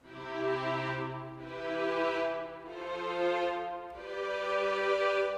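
Plain triad chords sound on a sampled piano in Kontakt, several sustained chords in slow succession, each swelling and blending into the next, with no one talking.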